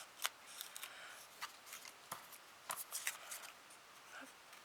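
Small scissors snipping paper and card to round the edges of a tiny transparent scrapbook bag, a scattered series of quick crisp cuts, close but faint, with no speech.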